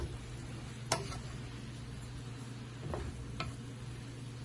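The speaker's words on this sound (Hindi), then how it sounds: "और स्पगेटी को हम अच्छी तरह से मिक्स करेंगे।" Spaghetti chow mein with chicken stirred in a pan, a faint sizzle underneath with a few sharp utensil clicks and scrapes spaced out, quiet and close, no talk.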